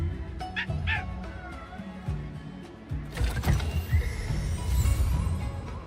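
In the Honkai Star Rail video game, the robot dog D-Ting gives a few short yips and barks over a busy bed of game effects and mechanical clatter, with a denser burst of noise in the second half.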